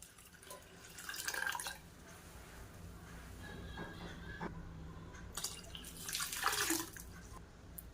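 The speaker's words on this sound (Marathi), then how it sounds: "आता पाणी ओतायचं आहे यामध्ये।" Water poured into crushed crab in a stone mortar and pestle, heard as splashing, trickling bursts around the start and again near the end, close and fairly loud.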